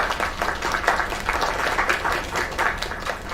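Another round of applause rises for a singer, a moderate, slightly distant patter of many hands clapping with uneven bursts.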